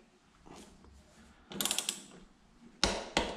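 Torque wrench tightening a pinch bolt on a Harley-Davidson Sportster motorcycle fork, faint ratcheting clicks that give way to a few sharp, louder clicks near the end.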